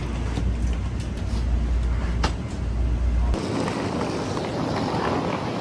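Steady low rumble of a moving train in Taiwan that suddenly drops away midway, leaving a lighter rushing noise with faint clicks.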